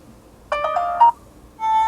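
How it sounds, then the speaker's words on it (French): A Cubot X10 smartphone ringtone plays loud and close: a bright, electronic tonal phrase of stacked notes, a brief pause, then the melody starting again. "on va regarder un petit peu la sonnerie, ce que ça donne"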